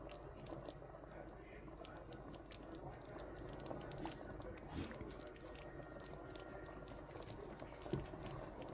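Chili with beans and spices simmering down in a pot, with a faint, continuous low bubbling and occasional soft pops and drips at a quiet level.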